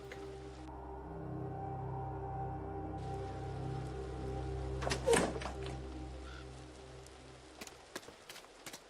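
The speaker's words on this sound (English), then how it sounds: "Well, it is raining." Rain patters softly and steadily in a video game scene, outside a church in the evening, with a low hum underneath, a muffled thump midway and a few faint knocks near the end.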